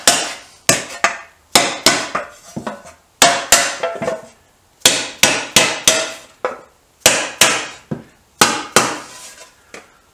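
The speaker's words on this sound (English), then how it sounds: "let me carry on hammering" Sharp hammer blows strike metal in quick bursts of several hits separated by short pauses. The repeated ringing impacts are close and loud, with no talk over them, during restoration work on a Triumph 500 Otter.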